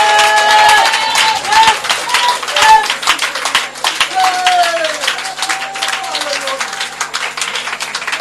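A church congregation claps and cheers loudly during a wedding blessing service, dense continuous applause with hand claps and voices rising together, steady and close throughout.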